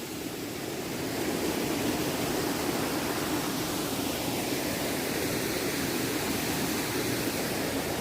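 A forest waterfall roars in a steady, dense wash of rushing water that stays close and loud throughout, with no other sounds breaking through.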